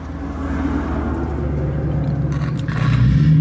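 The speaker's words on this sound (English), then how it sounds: "noisy car" A 1971 VW Type-3 Squareback 1600 engine idles with a steady, loud low rumble and a rough, uneven chug, building slightly in intensity toward the end, with no talking.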